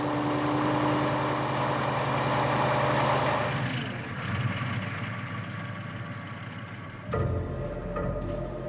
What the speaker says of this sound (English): A 300 horsepower engine and 6-wheel drive are no help.